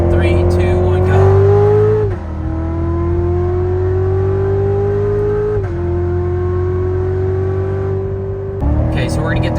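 A C7 Corvette Z06 accelerates hard in a roll race, its loud engine note rising through gear shifts in long climbing pulls, close and dominant.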